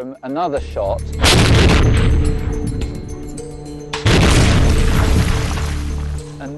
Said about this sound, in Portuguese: Aqui temos o outro disparo.